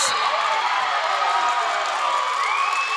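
Basketball crowd erupts in loud, sustained cheering and shouting right after a go-ahead three-pointer for Redlands in a close game, a dense roar that holds steady throughout.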